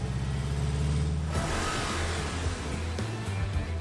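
An Audi R8's engine revs steadily and loudly while the car slides across ice, its low droning note holding throughout, with a brief rising surge partway through and no voices.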